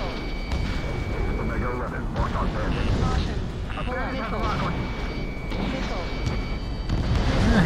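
Explosions rumble and crack during an Ace Combat 7 air battle, a loud, dense barrage of booms mixed with jet noise and cockpit warning tones while a voice talks over it.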